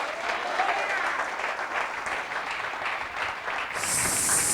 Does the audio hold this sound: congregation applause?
yes